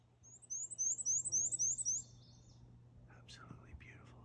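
A Black-and-white Warbler call played back from a phone birding app outdoors: a quick series of high, thin, squeaky repeated notes for about two seconds, followed by faint chips and low background hum.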